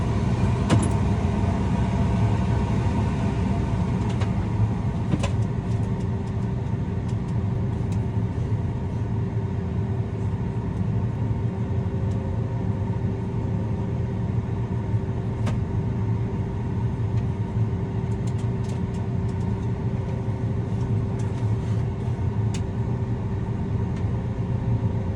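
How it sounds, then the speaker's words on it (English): Steady, loud rumble of a combine harvester's engine idling during loading on a Colorado harvest crew, with a constant low drone and a sustained mid-pitched hum running unbroken throughout, no talking. "Right now we're doing a little loading of a combine"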